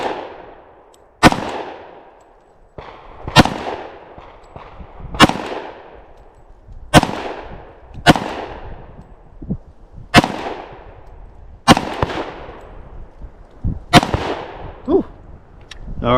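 A CZ P-10 F optics-ready .45 pistol fires about nine loud, sharp shots at 10 yards, spaced roughly one to two seconds apart, each leaving a short ringing decay, with no talk.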